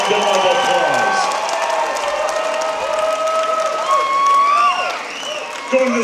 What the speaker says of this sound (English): let's give both of these ladies a big round of applause